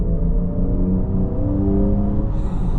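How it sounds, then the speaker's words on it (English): A 2025 Kia EV6 GT-Line all-wheel-drive electric car accelerates hard from 25 mph, giving a loud, steady low road rumble with a rising motor whir and no talking. "we'll get it up to 25 miles an hour and just hit the throttle"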